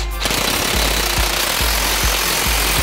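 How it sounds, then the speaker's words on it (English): Pneumatic air impact gun tightening a front hub bearing nut on a 2008-2016 Chrysler Town & Country, a loud, continuous rattling hammer burst lasting throughout, close up with rapid repeated impacts. "Get the air gun. Nope, I don't want electric for this."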